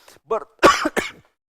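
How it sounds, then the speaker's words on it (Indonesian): A man coughs in a few quick, close bursts during an Islamic religious lecture, the short harsh hacks coming alone with no talk over them. "Saya sampai batuk."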